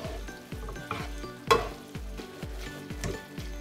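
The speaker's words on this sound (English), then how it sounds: "I'm going to add just a little bit of water to the pan, and I'm going to start tossing this up." Pasta carbonara with a splash of water is tossed in a hot pan, giving a steady sizzle punctuated by regular swishing tosses about twice a second, close and without speech.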